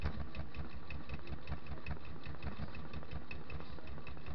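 A sewing machine stitches in the ditch around an applique on a quilt, running with a steady, rapid mechanical chatter at a low, even level throughout.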